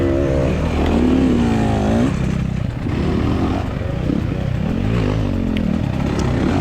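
Dirt bike engines rev loudly during a scramble race, with a close rising and falling rev early on, then a steady, rough engine roar under wind noise.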